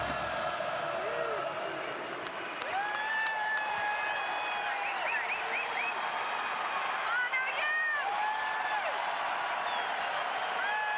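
A packed Oklahoma Sooners crowd roars steadily through a college football bowl game, a dense wall of cheering and whistles heard from the stands, with a commentator talking over it.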